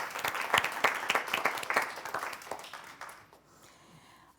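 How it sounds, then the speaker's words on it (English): Round of applause for a panel at a public health policy course, brisk clapping that peaks early, then thins out and fades to near silence before a sudden noise at the end. "round of applause for our panel."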